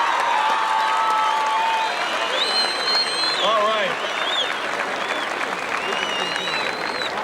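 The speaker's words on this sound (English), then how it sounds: "applause." A large outdoor crowd applauds at the opening ceremonies of the 1989 Empire State Games in Ithaca, a steady wash of clapping and some cheering, with a voice and a few whistles heard over it.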